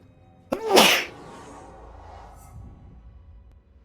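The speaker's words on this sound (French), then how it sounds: "vous allez pas mal m'entendre éternuer, un petit peu renifler peut-être" One sharp, close sneeze bursts out during a Star Wars Jedi: Fallen Order playthrough, followed by a brief breathy trail and quiet room noise.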